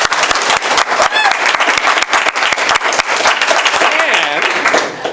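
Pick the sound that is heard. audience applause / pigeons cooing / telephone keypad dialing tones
audience applause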